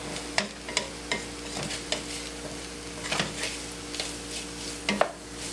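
Roasted chile strips are stirred in a pan, with a spoon scraping and tapping in irregular strokes over a soft, continuous sizzle. The sound is moderately close and quiet.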